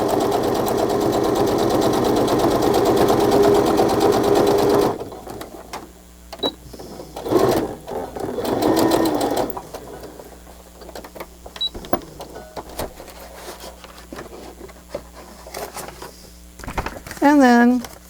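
A sewing machine stitches pockets in long continuous whirring runs, then in shorter bursts, close by, while someone talks over it.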